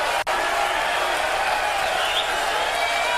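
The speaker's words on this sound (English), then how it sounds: "Listen to the crowd." A darts crowd at Lakeside roars and applauds in a dense, loud, unbroken wash of cheering and clapping.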